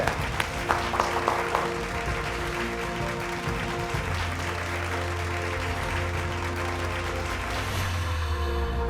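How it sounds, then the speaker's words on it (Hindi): An audience applauding at an awards show, a sustained wash of clapping from a crowd, fairly loud and continuous, with a low hum rising underneath in the latter half. "एक बार जोरदार तालियों से स्वागत करिए।"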